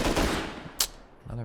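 A single sharp gunshot from a video game rings out briefly amid a low murmur of voice, with talking before and after.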